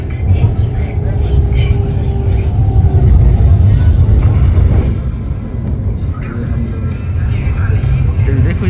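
A Hangzhou metro train runs with a steady, loud low rumble and rolling rail noise throughout, with faint voices mixed in.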